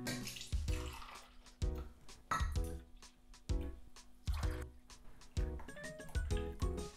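Liquid coffee jelly made with gelatin is poured into cups in a home kitchen, in several separate pours that each give a short splashing, dripping burst with clinks between them.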